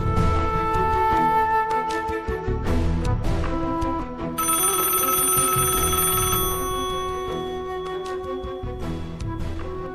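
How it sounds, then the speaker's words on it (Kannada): A telephone rings loudly and repeatedly with bright electronic tones, the ringing pattern shifting partway through and continuing steadily, no voices over it. "ಸರ್, ಫೋನ್ ರಿಂಗ್ ಆಗ್ತಾ ಇದೆ"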